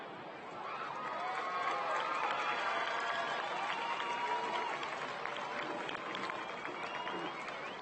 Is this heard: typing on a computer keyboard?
no